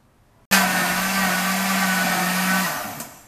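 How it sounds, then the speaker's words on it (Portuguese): A kitchen blender mixing condensed milk pudding batter starts abruptly and runs with a loud, steady motor whine for about two seconds before cutting off. "passados os nossos 5 minutos que deixamos o nosso pudim batendo ao liquidificador"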